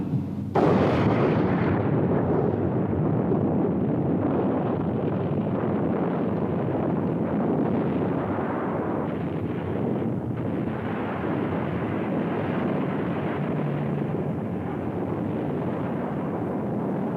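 A hydrogen bomb detonation hits with a sudden blast, then a huge sustained roar and rumble that rolls on without letup for many seconds.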